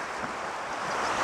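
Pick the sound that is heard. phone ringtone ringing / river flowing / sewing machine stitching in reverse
river flowing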